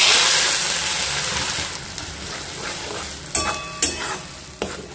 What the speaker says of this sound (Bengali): এবার দিয়ে দেব যে পেস্টটা আমি বানিয়ে রেখেছিলাম সেই পেস্টটা